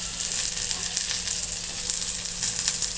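Chopped pointed gourd (potol) frying in oil with cumin, giving a close, continuous crackling sizzle that stays steady from start to finish.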